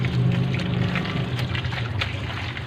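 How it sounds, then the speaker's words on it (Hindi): Open water is poured over a computer keyboard part being cleaned, a continuous close splashing and trickling flow that runs steadily from start to finish. "अब हम इसके ऊपर खुला पानी डालेंगे,"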